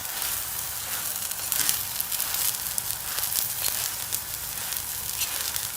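A tomato-stuffed paratha sizzles steadily on a pan over a medium flame, a continuous close, even frying hiss with light crackles throughout and no voices.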